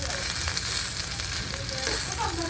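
Chicken pieces sizzle loudly and steadily in a hot pan, a dense, continuous crackling fry heard up close without a break.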